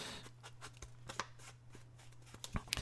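Scissors make a few faint, close snips and rustles while cutting a vintage index card, the sound quiet and irregular.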